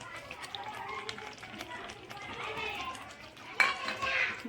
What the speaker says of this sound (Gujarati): હવે આપણે એમાં કાજુ ઉમેરી દઈશું।